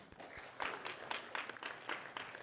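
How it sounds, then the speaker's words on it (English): Scattered applause from a small college audience for a student named Ashley, faint and thin with a few distinct claps rising into a light, uneven patter. "Give Ashley a round of applause"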